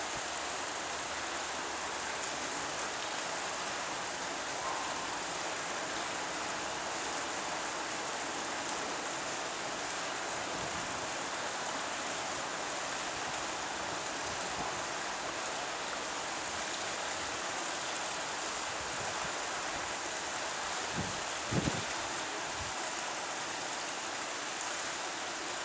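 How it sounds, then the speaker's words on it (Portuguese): Water flows in a cloister as a soft, constant hiss and trickle, faint and unbroken throughout, with a few slightly louder splashes late on. "A água que corre e purifica a nossa vida, a nossa irmã água"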